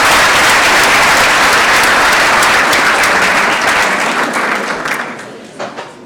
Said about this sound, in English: So everybody should give themselves a round of applause for all the work you have done